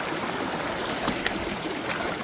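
Water rushes and trickles steadily at a stream crossing on a hiking trail, a broad, even wash of flowing sound heard up close with no voices.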